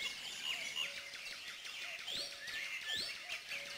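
Great tits and blue tits call in a garden with nest boxes, giving thin, bright chirps and short whistled notes in quick, irregular bursts at a soft, moderate distance over faint background noise.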